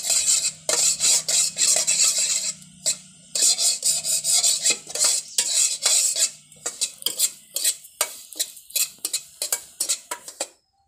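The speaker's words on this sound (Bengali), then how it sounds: "এইভাবে করে আমি লাল পাড়া করে সুজিটা ভেজে নিচ্ছি।" Semolina dry-frying in a pan for a milk-based malai roll dessert, with dense, continuous scraping and rasping of a utensil stirring against the metal, loud and close, growing into sharp intermittent scrapes toward the end.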